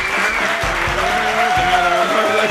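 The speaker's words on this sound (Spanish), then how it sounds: "Gracias por este aplauso sincero." Studio audience applauding a comedy talk show, dense clapping throughout with people speaking over it and loud, close sound.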